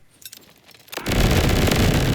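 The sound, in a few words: grenade secondary explosions in video game Borderlands 4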